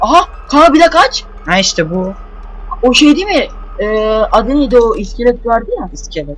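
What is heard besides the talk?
None of the usual background noises is heard.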